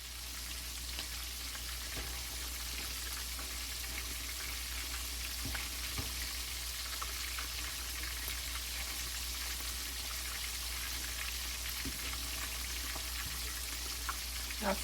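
Chicken pieces frying in hot oil for a Chick-fil-A copycat recipe, a steady close sizzle and crackle with occasional stirring or flipping clatter, no voices.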